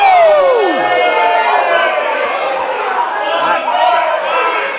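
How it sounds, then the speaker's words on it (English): A large wrestling crowd at a live championship event yells and roars continuously, loud and dense, with a falling whistle-like shout near the start. "And the crowd yelling for one more time."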